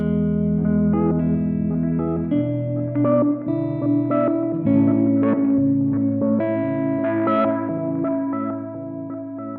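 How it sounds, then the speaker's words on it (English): A guitar through a Chase Bliss Thermae pitch-shifting delay pedal plays a melodic line with repeating delayed echoes and shifting pitched layers, cascading and overlapping before the final notes fade. "Which gives you really unique delay tones."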